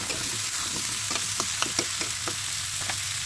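Squash (kalabasa) for pinakbet frying in a pan: a dense, even sizzle runs throughout with light, scattered stirring taps on top.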